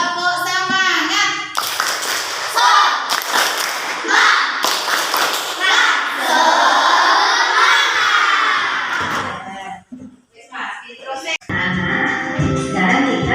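A class of children claps out a rhythmic spirit clap in sharp patterned bursts, mixed with shouting and cheering voices, while an adult's voice joins in before a brief pause.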